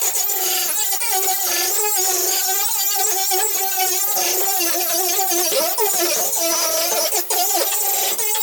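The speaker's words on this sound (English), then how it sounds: "I'm just gonna hit it with the wire wheel on my cordless grinder just to break up some of the dirt and loose paint" A wire wheel on a cordless grinder scours dirt and loose paint off a C4 Corvette Dana 44 IRS differential, a loud, continuous high whine with rough scratchy grinding throughout.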